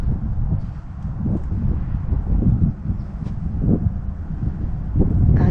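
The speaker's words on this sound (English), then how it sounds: "It's breezy." Breezy outdoor wind in a cemetery buffets the microphone in fluctuating gusts, rising and falling in low rumbling bursts with no talk.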